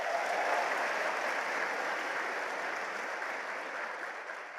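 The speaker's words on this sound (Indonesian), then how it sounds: "Oleh karena itu Anda perlu memberikan satu aplaus pada diri Anda." Audience applause fills a hall at an asset-building seminar, a dense, steady wash of clapping from many hands that runs throughout and slowly tapers. No voices are heard over it.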